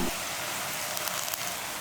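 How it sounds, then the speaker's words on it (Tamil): Tomato, onion and coriander leaves sauté in a hot pan, giving a steady, close sizzle and soft frying crackle with no voices. "இதை ஒரு 2 நிமிஷம் போல் நல்லா வதக்கி விட்டுறலாம்."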